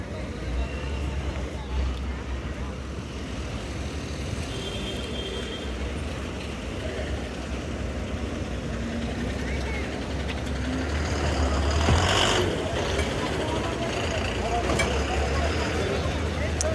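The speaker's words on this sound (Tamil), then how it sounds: "எஸ், அப்படியே நம்ம வண்டி கிளம்பிடுச்சுங்க." A BS-VI bus pulls away from the Coimbatore stand for Kodaikanal: a low, steady engine rumble heard from inside, swelling slightly as it gets moving, with voices talking over it.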